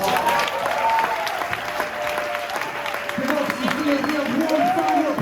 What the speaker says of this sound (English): give one final applause